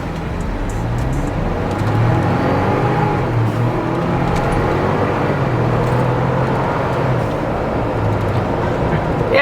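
A 2022 Ford Bronco with a JB4 tune in sport mode launches and accelerates, its engine a loud, steady, close drone heard from inside the cabin with no talk.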